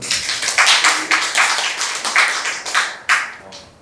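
A small group claps, loose and uneven, a few seconds of scattered applause with distinct hand claps standing out, close by and moderately loud.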